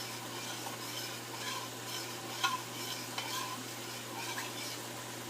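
Keema frying in masala on a high flame, with a steady sizzle and occasional scrapes and clinks as it is stirred in the pan, close and moderately quiet over a faint low hum.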